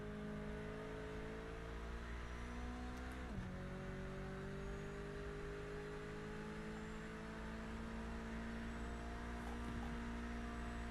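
Race car engine in Project Motor Racing video game dropping two gears in a double downshift, a sustained droning whir with a sudden pitch dip partway through, moderately quiet and steady, no talking.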